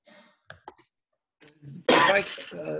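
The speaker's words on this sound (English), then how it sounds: "Clearing my throat." A few short, sharp throat-clearing bursts early on, then a louder rasping clearing sound followed by a rough vocal rumble, close to the listener.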